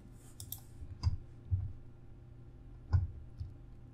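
Computer mouse clicks while pressing the play button in Maya's Arnold render view, a few faint, sharp clicks spaced irregularly over a quiet room hum.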